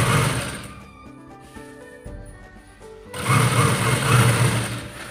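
Sewing machine stitching a churidar salwar, running in fast whirring bursts up close, a loud run at the start, a quieter stretch with clicks in the middle, then another loud sustained run.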